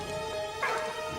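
A dog barks once in the World War I video game Valiant Hearts, a short, fairly clear yelp that rises out of steady game music and ambience.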